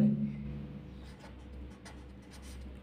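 Marker or chalk scratches across a classroom board in a soft, steady scrawl with a few short strokes, faint and close in a quiet room.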